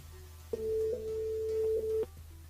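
A telephone tone sounds as a radio host calls a listener through the station switchboard: a single steady electronic tone of about one and a half seconds over a faint background hum.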